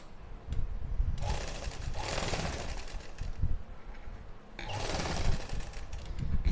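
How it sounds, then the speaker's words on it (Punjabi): A sewing machine runs a loose basting stitch to attach a neckline piece to suit fabric. It whirs in two steady bursts of stitching, separated by a quieter pause, with no talking. "ਇਸ ਤੋਂ ਬਾਅਦ ਆਪਾਂ ਇਹਦੇ ਤੇ ਕੱਚੀ ਸਲਾਈ ਲਾਵਾਂਗੇ"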